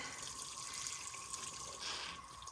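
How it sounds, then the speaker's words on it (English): Fertilizer water pours from a container onto a plant in a shaded greenhouse, a soft, steady trickle and splash that runs continuously, close but faint, with no speech. "Now I'm just going to pour a little bit of fertilizer water on it"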